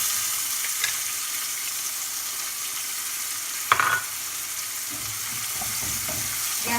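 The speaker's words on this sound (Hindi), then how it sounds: "जब तक ओनियन थोड़ा सा ब्राउन नहीं हो जाता है हमें फ्राई" Chopped onion fries in oil with mustard seeds, a steady close hiss of sizzling that goes on throughout, with a brief clatter of stirring partway through.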